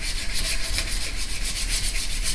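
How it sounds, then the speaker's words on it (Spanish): Sandpaper of 320 grit, folded in four, is rubbed by hand over a wooden surface, producing a steady close scratchy hiss in quick back-and-forth strokes with no talking. "Muy bien, lijo."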